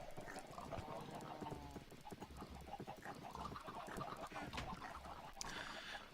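Chickens clucking and a steady mechanical clatter from a farm in the block-building game FTB Void World, a dense continuous game soundscape with faint bird calls layered over rhythmic clopping sounds.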